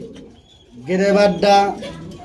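Pigeons coo nearby in two soft, throaty bursts, low and rounded, over faint background noise.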